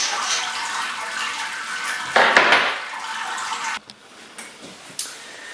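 Sparge water runs through the grain basket of a Grainfather brewing system, a steady close splashing trickle with louder gushes midway, a sudden drop, and small knocks and drips afterward.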